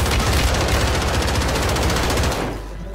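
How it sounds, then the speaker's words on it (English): Loud, close, rapid-fire automatic gunfire in a video game, a continuous stuttering burst that runs nearly three seconds before cutting off abruptly. "I love wasting bullets."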